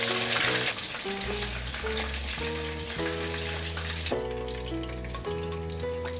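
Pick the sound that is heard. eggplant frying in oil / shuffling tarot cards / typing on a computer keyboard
eggplant frying in oil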